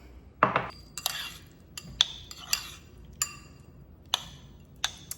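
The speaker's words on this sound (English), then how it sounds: "And then we're gonna mix it all up." Spoon mixing bruschetta topping seasoned with Himalayan salt in a bowl, a string of about ten light clinks and taps at uneven intervals, close and fairly faint with no talk.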